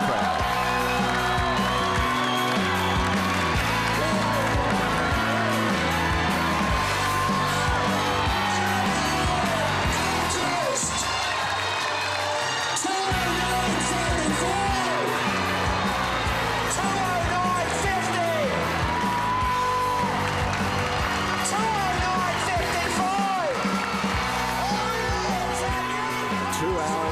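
Crowd at the finish of the Gold Coast Airport Marathon, 2011, cheering and whooping loudly for an arriving runner, mixed with music and a commentator's voice throughout.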